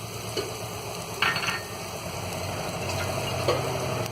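Vegetables for a veg biryani being stirred in a frying pan, a steady soft sizzle with a few scraping stirs of the spoon, close by, with no talking.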